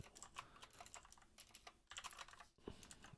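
Rapid typing on a computer keyboard while writing C++ code, a quiet, close patter of irregular key clicks with short pauses, heard alone without talk.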